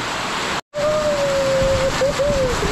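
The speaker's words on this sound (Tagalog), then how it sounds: "Ang lakas ng ulan." Steady heavy rain roars close by during flooding, with a brief cutout early on and a faint thin whine running through.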